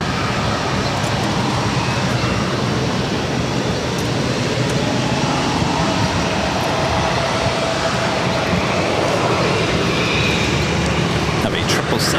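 A Boeing 777 airliner on short final approach to runway 22 right at Boston airport, a steady broad engine roar held at constant loudness throughout, with radio chatter and talk over it.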